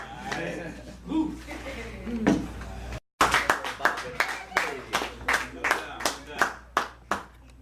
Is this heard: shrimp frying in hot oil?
no